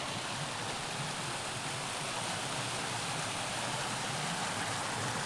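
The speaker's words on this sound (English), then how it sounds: "Ooh, listen to that creek." Swollen creek after a wet rainy season rushing steadily through chaparral in Cuyamaca Rancho State Park, a dense continuous broadband wash close by, with no voices.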